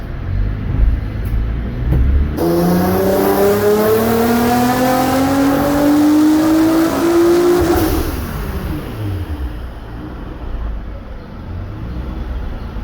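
A Nissan GT-R engine on a dyno climbs steadily in pitch to redline and then drops off, a loud, sustained, rising engine note with harmonics before a falling whine and residual rumble.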